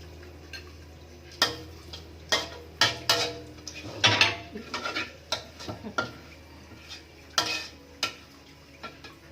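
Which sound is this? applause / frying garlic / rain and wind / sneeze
frying garlic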